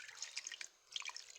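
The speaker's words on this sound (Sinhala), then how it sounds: "වතුර එකතු කර ගන්නවා." Water is poured into a pot of tamarind fish curry with goraka paste, pepper and garlic, giving faint splashing and dripping trickles in two short bursts, close and quiet.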